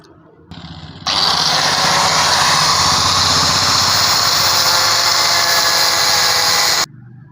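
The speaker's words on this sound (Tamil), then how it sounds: "நம்ம தேவையான அளவுக்கு பேட்டரி பாக்ஸை கட் பண்ணி எடுத்துட்டோம்" A power tool cuts a motorbike battery box, the tool spinning up in two steps to a loud, steady high-pitched whine that holds for several seconds before stopping abruptly.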